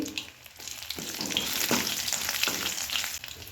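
Byadgi chillies, garlic and ginger sizzle and crackle in hot oil in a pan for a restaurant-style matar paneer, a steady close frying hiss with a few stirring scrapes and no voices.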